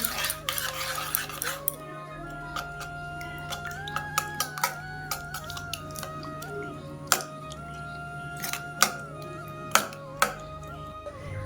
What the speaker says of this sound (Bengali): মিশ্রণটিকে এবার ভালো করে মিশিয়ে নেব।